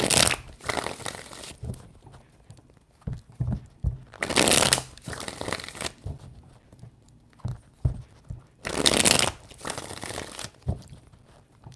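Tarot cards shuffled by hand in three bursts of crisp riffling and rustling, with softer handling taps between them, close and alone with no talk.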